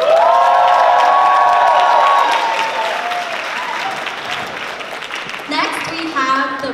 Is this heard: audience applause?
yes